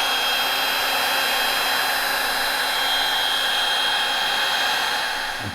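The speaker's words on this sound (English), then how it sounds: "so I'm going to use the heat gun to dry that off" A heat gun dries leather filler during a leather repair on a Porsche 997.2 GT3 RS, blowing with a loud, steady whooshing whine that tapers slightly at the end.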